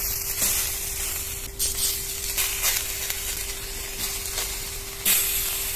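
Eggplant slices fry in a pan with barely any oil over a low flame, a steady soft sizzle with a faint hum and a few brief louder spurts as pieces settle, no voices.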